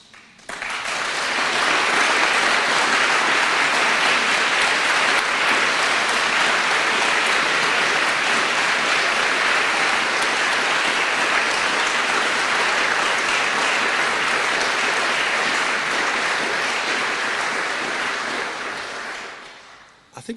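Sustained audience applause after a political speech about regional growth, a dense wash of clapping that swells quickly, holds steady and loud for about eighteen seconds, then fades out.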